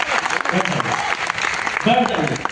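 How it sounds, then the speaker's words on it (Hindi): Audience at a Patna seminar meet-up clapping briefly, a dense patter of hands mixed with murmuring voices that runs the whole short stretch. "ताली होना चाहिए"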